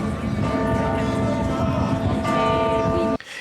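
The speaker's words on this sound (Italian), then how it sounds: "Le campane della cattedrale di Palermo, terminati i funerali del Santo Padre, suonano a morto nel silenzio più assoluto." The bells of Palermo Cathedral toll a death knell after a papal funeral, a loud sustained ringing with layered resonant tones that hang over a low rumble before cutting off abruptly near the end.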